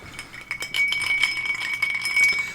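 Glasses clink together in a toast, a few bright, ringing chinks spread over a couple of seconds, close and clear with a sustained glassy tone and no talking.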